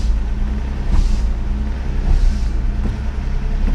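Nissan 300ZX reversing after 13 years off the road, a steady low engine rumble close by with faint clunks and brake noises, no voices.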